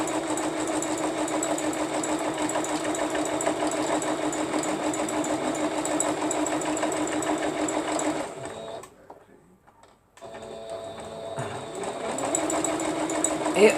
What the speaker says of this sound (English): The sewing machine will pick up right where it left off at.